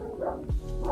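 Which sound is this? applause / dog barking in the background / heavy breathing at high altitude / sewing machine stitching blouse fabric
dog barking in the background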